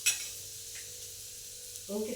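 Something frying in ghee in a home kitchen pan, a soft steady sizzle with a brief clatter at the start and stirring scrapes toward the end.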